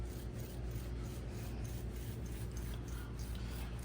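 Brush working epoxy over a boat's fin roller, a steady soft rasping scrape repeating in short strokes, close and fairly quiet with no talk.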